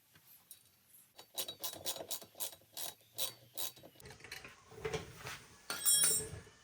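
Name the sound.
tightening bolt with Allen key, Harley Davidson plate mount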